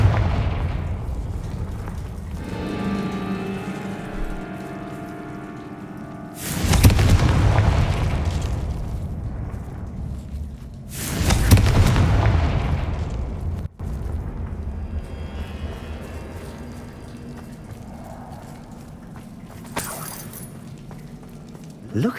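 Confringo spell blasts in the Hogwarts Legacy video game, two loud booming explosions with rumbling tails several seconds apart, over steady game ambience and brief character voices.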